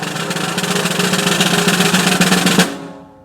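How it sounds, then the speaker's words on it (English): A snare drum buzz roll in sextuplets sounds as a dense, continuous rattling press roll, loud and steady for about two and a half seconds before stopping abruptly with a short decay. "practice buzzing it"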